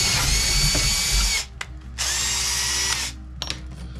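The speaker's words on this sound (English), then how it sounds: "so we're going to try and drill this out now. Now I like starting with a smaller bit" A power drill bores a hole with a small bit into a part for a shop-built logging winch: two close, loud, sustained whining runs of about a second and a half each, separated by a short pause with faint handling noise.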